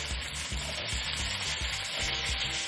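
Finely chopped onion frying in hot oil for a dry prawn thokku gives a continuous close sizzle and crackle, with soft scraping and stirring knocks from a utensil in the pan.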